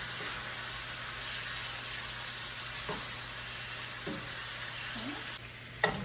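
Oxtails browning in a hot pan, a steady close sizzle with a few soft scrapes and thumps as pieces are turned, ending in a sharper clatter.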